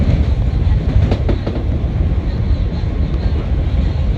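A CTA Green Line elevated train rolls along its rails, a steady loud rumble with faint clickety-clack over the track joints throughout, heard from on board with no talking.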